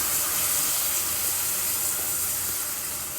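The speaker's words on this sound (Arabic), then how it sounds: "هنحط كوبايه ميه" Steady broadband hiss and rush of water poured onto caramelized sugar in a hot pan, continuous and close, with no talking.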